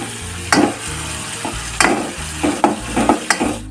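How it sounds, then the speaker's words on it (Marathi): Spices with turmeric sizzle and crackle in a hot wok, with several sharp scraping stirs punctuating the steady frying hiss. "आता हे सर्व एकत्र करून मिनिटभर फ्राय करून घेऊया मसाले"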